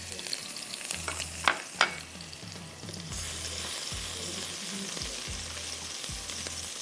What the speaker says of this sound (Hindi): उसके बाद मैं इसमें डालूंगी अदरक लहसुन 1-1 टेबलस्पून